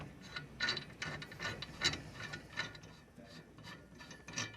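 Bolts being threaded into a metal stand for an SWF embroidery machine, giving repeated short ratcheting, scraping and rubbing bursts at close range, fairly faint, with no talk.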